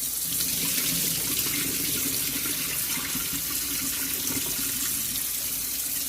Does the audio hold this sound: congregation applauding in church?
no